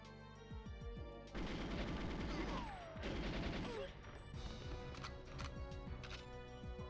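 Rapid turret gunfire in GoldenEye 007 on the Nintendo 64: dense automatic bursts with heavy thuds, soft and somewhat muffled, under game music.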